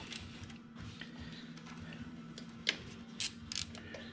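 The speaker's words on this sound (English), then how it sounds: "now we're gonna remove the secondary air injection covers. Just 8mm socket." An 8mm socket ratchet works on motorcycle secondary air injection covers, giving soft quiet clicks and creaks over a faint steady hum, with a few sharper metallic ticks and clinks toward the end.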